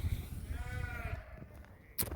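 Sheep bleat at feeding time on a farm, with one wavering bleat close by over a rumbling, noisy background and a brief knock near the end.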